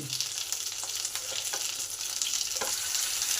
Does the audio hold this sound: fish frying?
yes